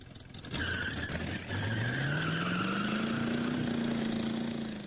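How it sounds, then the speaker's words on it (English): A homemade hotrod launches at a race start, a brief tire squeal followed by a rising engine roar as the car pulls away, moderately loud and mostly alone. "Chicago Fire were worried about spinning the wheels at the start, but with just a squeal"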